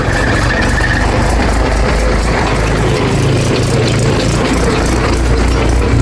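A tractor engine runs nearby in a village, a loud, steady low rumble with a slight rattle throughout.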